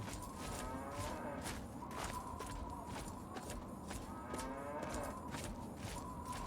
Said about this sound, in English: Hello, moo cows.